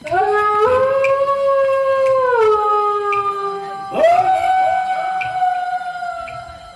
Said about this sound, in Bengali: আমার দুঃখে শিয়াল আর কুকুর কাঁদছে